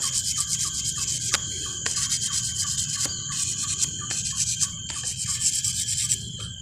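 Steady rubbing strokes of a whetstone across the outer face of a rubber tapping knife, a continuous gritty scraping with sharp clicks every second or so, close up and alone, with faint crickets in the background.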